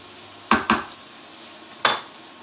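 Onions fry in a pan at home over a faint, steady sizzle, broken by three sharp metallic utensil scrapes and clanks against the pan, two close together and then one alone.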